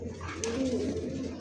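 A racing pigeon coos once, a low rolling call rising out of a steady background hum over about a second and a half, fairly close and alone without any talking.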